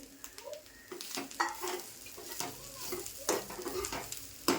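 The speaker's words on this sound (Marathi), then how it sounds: "आता हिरवी मिरची आणि बेडगी मिरची घेतली ना, ती सुद्धा यात सुद्धा परतून घेते." Green chillies and byadgi chillies sautéing in a pan for Malvani chicken curry, a close crackling sizzle broken by repeated scraping strokes of a spatula against the metal.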